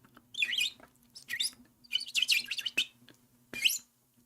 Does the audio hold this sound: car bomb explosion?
no